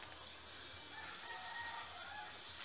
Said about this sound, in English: Shut up, rooster.